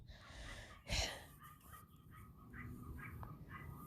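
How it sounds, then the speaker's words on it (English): A dog barks somewhere in the background, one louder bark near the start followed by a few fainter, distant barks, with no talking over them. "Sorry if you guys can hear that dog."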